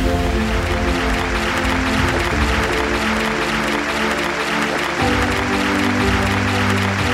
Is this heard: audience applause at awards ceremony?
yes